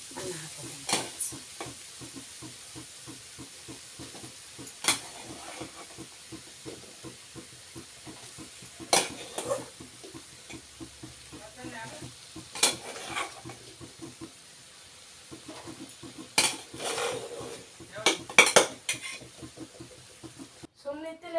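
Cooked rice being stirred into pulao in a pot gives soft scraping and stirring sounds with a faint steamy hiss, while a person talks over much of it.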